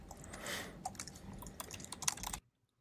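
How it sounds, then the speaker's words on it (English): Rapid keyboard typing clatters close by in an irregular burst of clicks, then stops abruptly into silence. "little typing there at the end"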